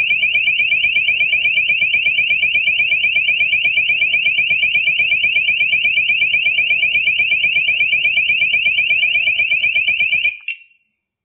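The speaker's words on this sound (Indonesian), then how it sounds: "Anda bisa mematikan suara alarm jika Anda ya mau mematikannya" A motion sensor alarm sounds a loud, steady, rapidly pulsing high-pitched electronic tone for about ten seconds before cutting off abruptly, alone without talk.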